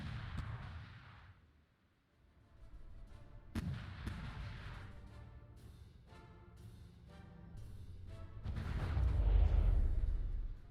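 Naval ship guns in From the Depths fire shells in scattered booming volleys, with sharp reports and rumbling low thumps spread over about ten seconds, growing heavier toward the end.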